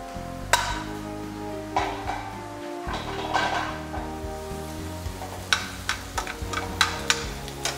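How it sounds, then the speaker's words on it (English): Shrimp sizzle in butter in a pan while onions sweat alongside. There is a steady, close frying hiss, broken by occasional clicks and taps of a utensil stirring, and no one speaks. "While our shrimp are sautéing, we'll get some more butter. And we'll start sweating our onions."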